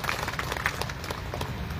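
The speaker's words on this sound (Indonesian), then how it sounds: "Kita sekali lagi beri tepuk tangan untuk mereka-mereka yang terlibat" Applause at an official ceremony in Taman Menteng, Jakarta, where a crowd claps for the people involved in relocating the Tugu 66 monument: steady dense clapping fills the whole clip at moderate level, with no voices.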